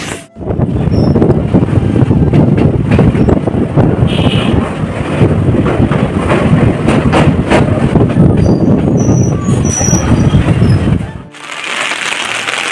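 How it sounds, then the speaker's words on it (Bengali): A train rumbles and rattles steadily close by as it arrives at a station, with wind buffeting the microphone, then the noise cuts off abruptly near the end. "এদিকে দেখো আমাদের ট্রেন ঢুকে গেছে"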